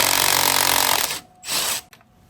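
Impact wrench rattling hard as it breaks loose the swing arm nut on a crash-damaged 2019 Suzuki GSX-R750, a loud continuous hammering burst for about a second, then a shorter second burst after a brief pause.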